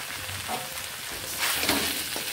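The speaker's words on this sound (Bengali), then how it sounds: "এবার এখানে দিয়ে নিচ্ছি ভেজে রাখা সবজিগুলোকে।" Fried vegetables tipped into a paneer masala sizzle in the pan, giving a continuous close crackling hiss with a louder burst partway through and no talk.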